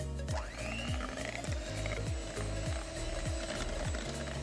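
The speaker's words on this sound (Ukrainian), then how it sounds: "Вливаю сюди вже розтоплений негарячий желатин та збиваю до однорідної маси на мінімальній швидкості міксера" An electric hand mixer on its lowest speed beats mascarpone with melted, warm-not-hot gelatin into a smooth cream for a tiramisu cake. It gives a steady motor whir with a regular knocking pulse as the beaters circle the bowl, close and continuous.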